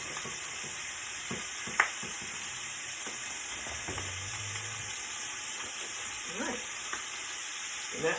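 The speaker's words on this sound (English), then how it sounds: "that should be enough of a sear to keep the juices in as we bake this" Meat sears in a hot pan for a date night dinner, a steady broadband sizzle running the whole time with scattered stirring scrapes and a few small clatters, fairly quiet and with no talking.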